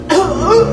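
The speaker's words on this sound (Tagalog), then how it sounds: "Oh, ayan na. Inuubo na." A single short cough from a nearby person, loud and close, with a slight chuckling quality, heard alone in a comedic skit.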